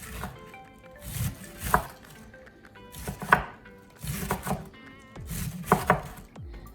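A kitchen knife thinly slices a whole cabbage on a cutting board after the loose outer leaves come off. Crisp, fairly close cuts land in quick bursts of several strokes with short pauses between them.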